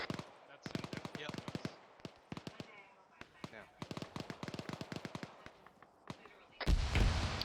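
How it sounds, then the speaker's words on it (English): An AGS automatic grenade launcher fires during a field exercise, in rapid bursts of sharp, hollow thumps with short pauses between volleys, followed by a loud rush of wind or radio noise at the end. "I'm hearing an AGS firing."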